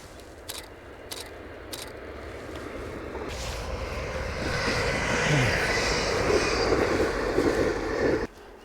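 A fast train rushes past outdoors, its broadband roar swelling from about three seconds and holding strong before cutting off abruptly near the end, after a few brief clicks at the start.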